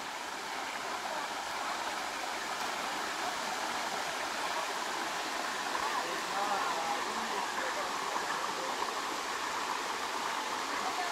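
Mountain stream at Suối Tiên, water rushing in a steady, even hiss with no pauses, fairly close and constant throughout.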